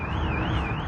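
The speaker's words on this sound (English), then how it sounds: "You can hear the siren triggered by the man using the side door going off." An alarm siren wails steadily at a store's side door, set off as a thief walks out with a cart of stolen goods on Broadway in Sacramento's Land Park neighborhood; a rising-and-falling electronic tone sounds loud and continuous over street noise.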